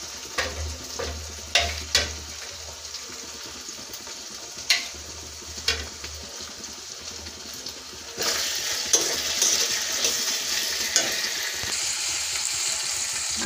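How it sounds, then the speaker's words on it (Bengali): A paste of ground cumin, coriander, green and dried red chilli fries in hot oil for a chicken curry, a steady sizzle with stirring clicks and scrapes, growing louder and hissier midway. "তেলের মধ্যে এটা ভাজা ভাজা করে নেব আমি"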